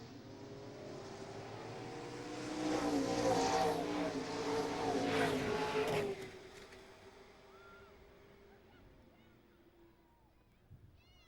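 A pack of NASCAR late model race cars thunders past at Mesa Marin Raceway as a race restarts after the pace car pulls off, a loud rising roar of engines that peaks and then fades into the distance, with an announcer talking over it.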